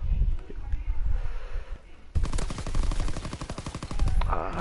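Rapid automatic gunfire in a WW2 shooter game, a fast rhythmic burst starting midway and running to the end, loud and close after quieter ambient game noise.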